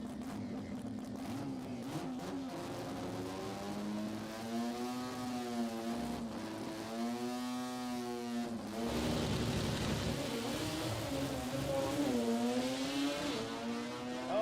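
A drag race car accelerates hard down the strip at Heathcote Park Raceway during the Billet Boss race day. Its loud engine note climbs steadily, drops at gear changes and climbs again across the full run.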